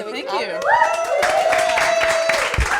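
A live studio audience claps for a guest on a talk show, a wash of applause rising behind a speaking voice and continuing under the talk.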